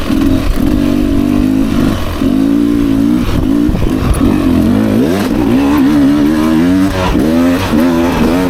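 A 2024 Beta 300RR Racing Edition motorcycle engine runs loud and close while riding on a hill climb, revving and pulling out of a corner with a rising and falling tone throughout, no voices.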